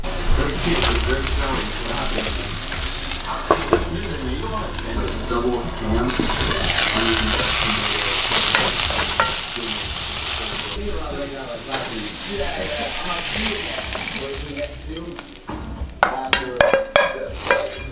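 Frozen spinach hisses and crackles loudly as it is stirred through a hot pan of breakfast food, a steady sizzle with scraping utensil strokes and clinks toward the end, and a voice speaks over it.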